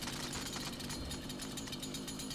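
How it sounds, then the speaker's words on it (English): A chainsaw grinds into a Mancubus demon in a Doom video game, a harsh, buzzing, continuous rasp with rapid chopping pulses, loud and unbroken for a couple of seconds. "when this Mancubus spawns, go at him with the chainsaw to refill all your ammo"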